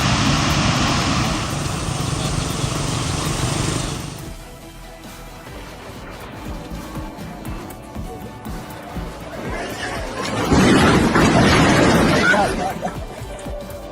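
A Bavia Air PK-TLS airplane flying a low-altitude maneuver, its engine roar loud and broadband for several seconds, then dropping away before a rough burst of noise swells again near the end.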